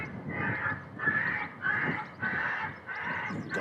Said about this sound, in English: the ducks are laughing at us again